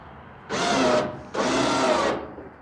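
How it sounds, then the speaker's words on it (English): Two steady mechanical whirring bursts, each about half a second to a second long, from a winch ratcheting tight while a tiny 1974 Mini Cooper Innocenti is loaded onto a trailer, close and fairly loud with a short pause between. "go ahead and torque up on your winch"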